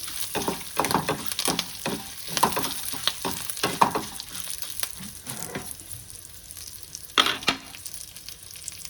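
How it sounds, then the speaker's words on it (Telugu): Curry leaves and dried red chillies frying in hot oil for a ridged gourd spice-powder curry, giving a steady crackling sizzle with sharper spitting bursts through the clip and no talk. "కరివేపాకు బాగా వేగాలండి. ఈ విధంగా వేసుకోవాలి."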